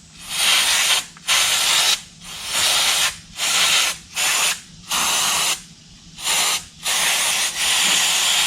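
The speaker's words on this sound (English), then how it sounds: "just going to use some brake parts cleaner here" Brake parts cleaner sprayed onto a Honda lawn mower engine on a Troy Bilt TB240, about ten loud close bursts of hissing aerosol, each roughly half a second to a second long, separated by brief pauses.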